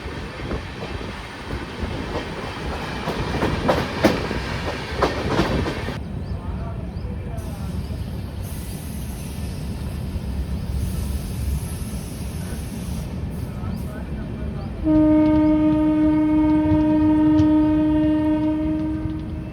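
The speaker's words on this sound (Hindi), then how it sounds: "लखनऊ पाटलिपुत्र एक्सप्रेस ये भी रुकती नहीं है बाराबंकी में।" Lucknow Patliputra Express running through Barabanki station without stopping, a loud rumble of passing coaches in the first seconds, then a steady roar with a sustained horn blast near the end.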